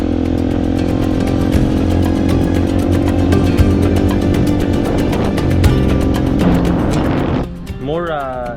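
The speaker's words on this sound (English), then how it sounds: "Ready to go on a motorbike trip." A motorbike engine idles and revs loudly and close up in Hurghada or El Gouna, a steady throbbing drone that rises briefly, then drops away near the end as a voice starts speaking.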